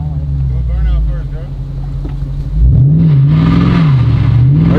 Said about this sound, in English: How do I do a burnout?